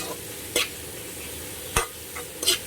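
Chopped onion sizzles in a hot pan with a steady low hiss, broken by three sharp clatters of a utensil stirring against the pan.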